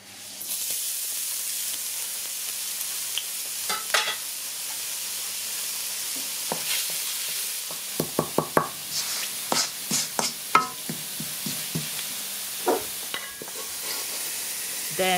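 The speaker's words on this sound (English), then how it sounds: "We're going to lightly sweat the garlic until fragrant by heating the wok up with some" Minced garlic sweating in oil in a heated wok, a steady soft sizzling hiss with scattered clicks and scrapes of stirring, close and alone without speech.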